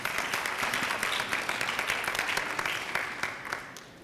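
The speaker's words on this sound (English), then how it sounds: "let's give all of them a big round of applause" An audience claps at a town hall meeting on domestic violence: a steady, dense patter of many hands that holds for about four seconds before thinning slightly at the end.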